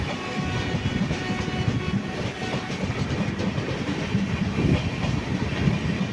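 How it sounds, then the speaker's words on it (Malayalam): Venad Express passenger train rolling past with a steady rumble and rhythmic clickety-clack of wheels over rail joints, sustained and fairly close for several seconds, with no voices. "നമ്മുടെ വേണാട് എക്സ്പ്രസ് പോകുന്നു."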